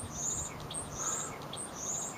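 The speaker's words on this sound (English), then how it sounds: "little birds up there making so much noise, talking to the chickens" Little birds chirp loudly from up high near a flock of chickens in a March garden, bright repeated tweets in quick bursts over soft outdoor background noise.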